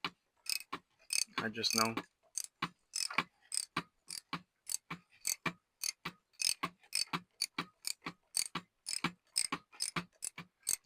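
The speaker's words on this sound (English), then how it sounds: "I'm just tightening it down." Engine oil drain plug on a BMW B58 being tightened by hand, a rapid series of small metallic clicks and ticks from the ratcheting wrench, close and fairly quiet, with a brief spoken phrase partway through.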